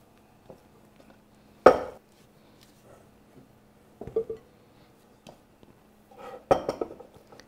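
Cookie dough for Greek butter cookies being scraped into a bowl, a few sharp clinks and knocks of utensil on bowl, spaced apart in a quiet kitchen.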